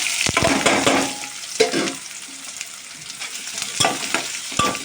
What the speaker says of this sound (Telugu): ఇప్పుడు ఆనియన్స్ మొత్తం వేసేద్దాం